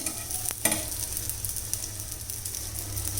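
An aloo paratha puffs up as it fries in oil, giving a continuous soft sizzle with a couple of sharp crackles near the start, then an even, fairly quiet frying hiss.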